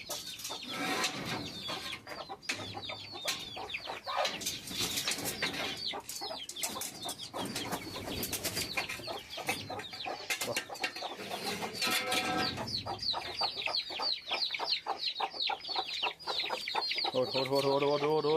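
Guinea fowl call in a dense, continuous chorus of harsh, rapid cackling and clucking around a farmyard, loud and overlapping throughout with other birds mixed in.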